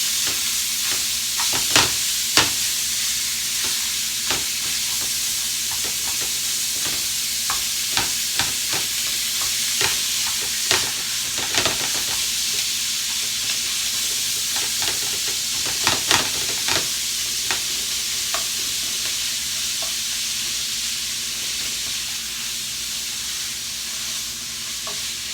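Ground beef stirred around a hot pan, sizzling with a steady frying hiss and repeated scraping clicks from the spoon, close and continuous with no talking.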